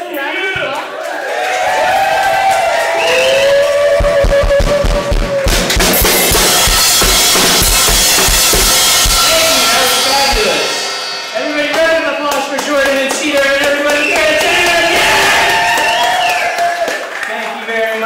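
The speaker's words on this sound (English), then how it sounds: "Everybody give us a round of applause." At a Pride prom gig, the audience bursts into a swell of clapping and cheering for the first act, peaking loud through the middle before fading as voices and music return.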